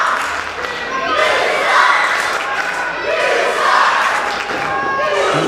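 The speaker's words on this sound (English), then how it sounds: "And now the crowd here in Colac with the "You Suck" chant," A pro wrestling crowd in Colac chants "You Suck" in loud, rhythmic waves that swell and fall over a few seconds, filling the arena.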